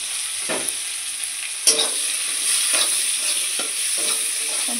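Onion and cumin fry in a pan for egg curry, giving a continuous bright sizzle broken by several scraping strokes of a spoon as they are stirred, with no talking.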